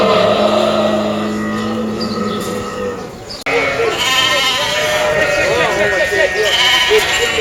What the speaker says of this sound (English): the noisy and somewhat smelly animal market, where we could watch sheep,